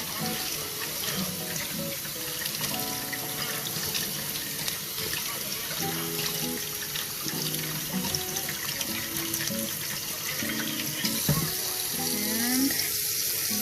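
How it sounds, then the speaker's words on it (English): Cold tap water runs into a sink to rinse cooked spaghetti squash or chickpea pasta, a steady close splashing and gurgling stream with faint clinks and shifting tones. "I like to rinse it with a little bit of cold water just to stop the cooking process."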